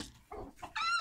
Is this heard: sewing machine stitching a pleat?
no